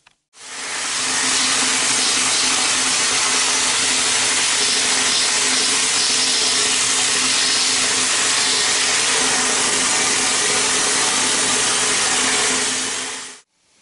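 Vapor honing machine blasting an engine cylinder stud to clean its threads, a loud steady wet hissing spray with a low mechanical drone that runs unbroken for about thirteen seconds, close and alone.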